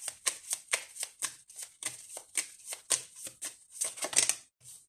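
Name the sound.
shuffling tarot cards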